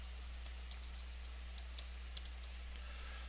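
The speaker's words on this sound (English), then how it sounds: "I just want to go ahead and type in error message here" Typing on a computer keyboard, a quiet run of light irregular key clicks over a low steady hum, no speech.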